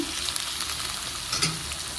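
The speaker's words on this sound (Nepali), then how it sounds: "त्यसलाई मजाले म मिक्स गरिदिन्छु र राम्ररी भुट्छु" Chopped capsicum being stirred and fried in a pan, with a loud, continuous sizzle and occasional scraping stir strokes close by, and no speech.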